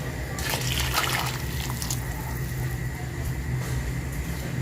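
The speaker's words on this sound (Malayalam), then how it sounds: "വെള്ളം പോരാ, കുറച്ചുകൂടെ ഒഴിക്കും വെള്ളം." Water pours steadily into a pot of boiled chicken while Arabic rice is being cooked, making a continuous moderate splashing gush with no voices.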